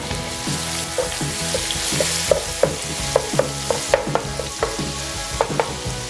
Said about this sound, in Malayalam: ജിഞ്ചർ ഗാർലിക് പേസ്റ്റ് ഓക്കെ, അതൊക്കെ ചെറുതായിട്ടൊന്ന് സോട്ട് ചെയ്യാം